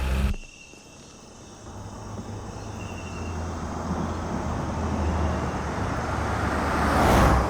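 A car pulls away at a state border checkpoint, its engine rumbling low and steady and building slightly in loudness as it goes, with crickets chirping faintly in the background.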